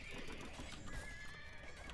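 Horses neigh and whinny amid clip-clopping hooves in the video game Age of Empires II, a faint, busy wash of game sounds with a drawn-out whinny in the middle.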